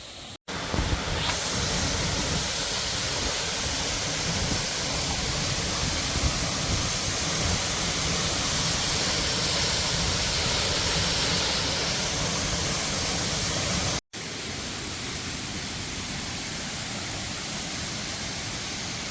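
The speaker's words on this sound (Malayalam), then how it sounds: "അത്യാവശ്യം നല്ല വെള്ളം മേളിൽ നിന്ന് നല്ല കുത്തി ചാടുന്ന രീതിയിലാട്ടോ ഇവിടുത്തെ ഈ വെള്ളച്ചാട്ടം" A loud, steady roar of water rushing and falling from a height at Manpilavu Waterfall fills the whole clip, broken only by a brief cut near the end.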